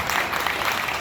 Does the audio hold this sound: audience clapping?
yes